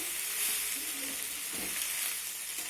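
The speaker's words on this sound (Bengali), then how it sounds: "ঘিটা দেওয়ার পর আবারও আমি একটু নেড়ে চেড়ে নেব" Noodles stirred with a spoonful of ghee in a hot pan give a dense, even sizzle, close and loud, with brief stirring scrapes over the short stretch and no voices.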